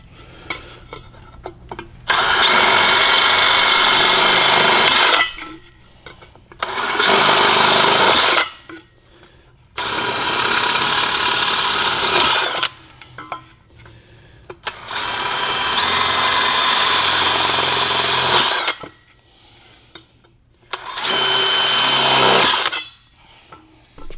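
A power drill punches a starter hole through a notched board, whirring in four or five loud, sustained bursts of several seconds each, separated by quiet pauses.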